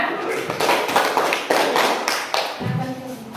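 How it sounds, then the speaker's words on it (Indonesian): Classroom clapping for a student group, several short bursts of claps with irregular rhythm, close and fairly loud, tapering near the end. "Tepuk tangan dulu untuk kelompok 2."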